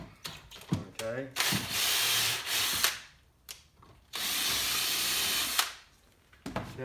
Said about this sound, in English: let me go ahead and drill a big hole